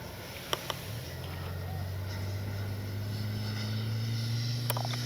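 HobbyKing Viper 64 RC jet in flight, a steady mid-pitched electric ducted-fan whine that swells and holds throughout, with a couple of brief clicks near the start.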